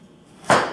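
A knife cuts an onion into thin slivers: after a near-silent moment, a single close, sharp chop strikes the cutting board and decays quickly.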